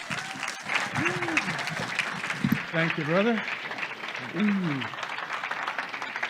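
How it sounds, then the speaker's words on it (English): Audience clapping to welcome a guest speaker, a steady bed of applause underneath a voice speaking briefly and other voices chatting over it. "Please give him a warm round of applause."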